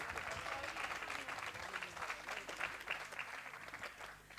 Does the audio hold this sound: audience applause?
yes